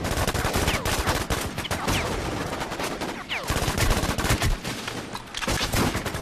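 Rapid bursts of gunfire from a War Inc. Battlezone shooter match, dense and continuous with overlapping automatic shots and sharp single cracks throughout, loud and close.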